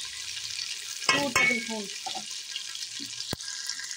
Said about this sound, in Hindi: अब हम इसी ऑयल में अदरक लहसुन भून लेंगे।